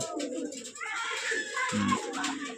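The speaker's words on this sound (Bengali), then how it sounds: "দেখেন আজকের ভিডিওতে যেগুলো দেখাচ্ছি সবই কালার ম্যাচিং কবুতর" Colour-matched breeding pigeons coo in a loft, soft low calls running through the clip with a louder coo near the end, while someone talks over them.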